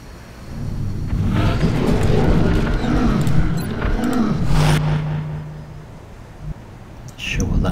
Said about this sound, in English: Sure, what that sound was, may have been mutons.